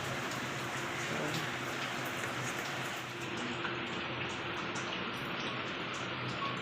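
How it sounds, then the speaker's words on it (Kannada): Steady rain pours down in a dense, continuous hiss, with no voices and no letup. "ಸ್ವಲ್ಪ ಮಳೆ ನಿರಲಿ"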